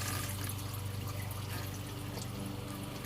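Water drains steadily out of a boat engine being winterized, a continuous close trickling and pouring stream with no pauses.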